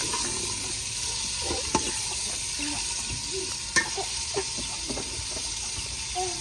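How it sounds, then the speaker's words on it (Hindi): Spices with red chili powder and salt browning in a pan give a steady, soft sizzle, broken by occasional sharp clicks and scrapes of stirring. "अभी इसको अच्छी तरीके से ब्राउन करते हैं।"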